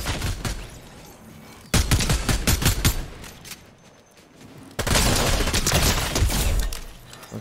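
Rapid bursts of Fortnite gunfire rattle in two loud volleys separated by a quieter stretch of sporadic shots, sharp and close.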